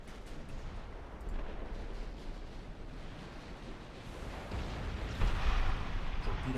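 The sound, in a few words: naval guns firing in Ultimate Admiral Dreadnoughts video game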